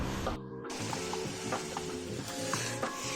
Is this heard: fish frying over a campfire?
yes